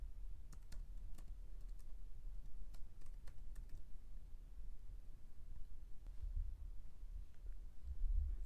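Keystrokes on a computer keyboard while a password is entered, a steady patter of light clicks spread across the clip over a low background hum, with no talking.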